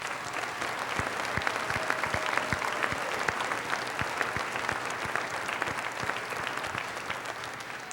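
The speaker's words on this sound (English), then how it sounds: "each and every one of those students should receive a round of applause at this time" Audience applause for graduating students at the Plymouth Whitemarsh High School Class of 2009 commencement: steady, dense clapping from a large crowd that holds level for the whole stretch, with individual sharp claps standing out near the front.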